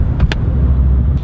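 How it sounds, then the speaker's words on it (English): Car interior while stuck in slow holiday traffic, a steady low engine and road rumble throughout, with a couple of brief faint higher clicks or squeaks near the start and end. "But I'm currently stuck in traffic."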